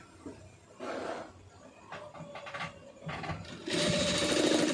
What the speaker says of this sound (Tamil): இதை வந்து தையல் போட்டுடலாம்